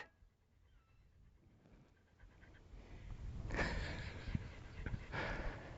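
A shop dog pants close by in a workshop, quiet at first and then a rapid, loud rhythmic huffing for several seconds.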